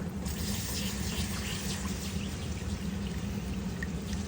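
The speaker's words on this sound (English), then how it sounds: "Okay, I'm going to start adding in whole milk." Whole milk is poured into a hot skillet to make gravy for fried steak bites. A continuous soft stream of liquid splashes and sizzles evenly for about four seconds at close range, with no talking.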